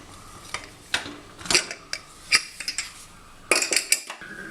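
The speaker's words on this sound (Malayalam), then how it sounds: "കുക്കറിൽ എന്തായി നോക്കാം." Opening a pressure cooker of cooked chickpeas for a Kerala kadala curry: a series of close metallic clanks and scrapes of pot and lid in irregular bursts, with no speech.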